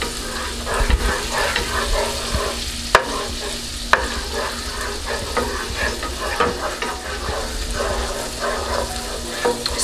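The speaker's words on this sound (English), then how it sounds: "we're going to give it a stir" A spoon stirring in a pan where butter sizzles and fries before asparagus goes in, a loud, steady crackling sizzle with scraping strokes and a couple of sharp knocks against the pan.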